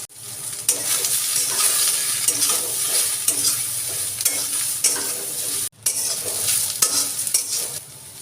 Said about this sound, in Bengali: এবার একটু ভালো করে নাড়াচাড়া করে একটু ভাজা ভাজা